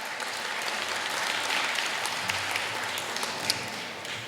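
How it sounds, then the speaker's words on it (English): Audience applause fills a room at a 50th anniversary gala in St. Louis, a steady wash of many hands clapping at moderate level for the whole stretch, with a sharp clap standing out near the end. "Yes, clap for that."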